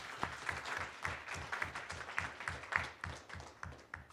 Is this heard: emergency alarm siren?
no